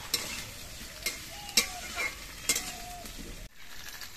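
Raw banana, drumsticks and potatoes sizzle in hot oil while a utensil scrapes and taps against the pan in short bursts, then the sizzle drops away near the end.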